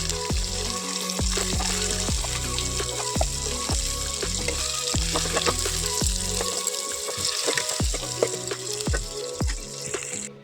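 Panch phoron, the five-spice seed mix, frying in hot oil in a kadai, giving a steady loud sizzle and crackle throughout with repeated sharp clinks and knocks against the pan.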